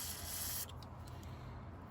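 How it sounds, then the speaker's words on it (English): A short hissing blast of WD-40 sprayed onto a stuck transmission bolt on a BMW E36, loud and steady for about half a second, then a few faint ratcheting clicks. "So what you do is you spray WD-40 on it"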